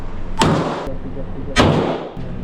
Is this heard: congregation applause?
no